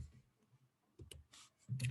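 A computer mouse clicks a few times, sharp and brief, with quiet talk in between and a voice at the end.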